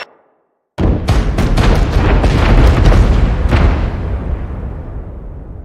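Silence, then a sudden roaring blast of overlapping booms and crackling detonations in a first-person shooter video game that rumble on for several seconds before slowly fading.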